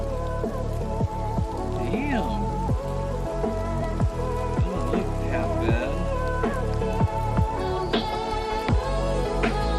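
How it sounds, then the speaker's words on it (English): Steady rain pattering on surfaces in the video game Oblivion Remastered, a continuous wash of drops under in-game music and a short spoken remark. "Just noticing the reflection from the rain."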